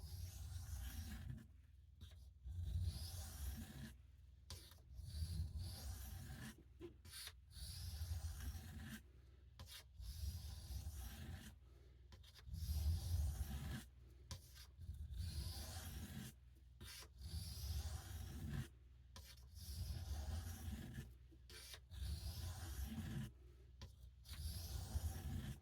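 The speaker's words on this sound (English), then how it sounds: "a strop can help you get that burr off" A 440 steel knife blade is drawn repeatedly across a strop in steady, close rubbing strokes with short pauses between passes, heard alone with no talking.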